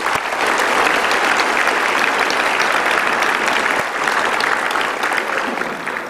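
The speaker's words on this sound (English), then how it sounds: "big round of applause for Space Center Houston" A large audience applauds a program at Space Center Houston with dense, sustained clapping that holds at an even level for several seconds, loud and close, with no talk over it.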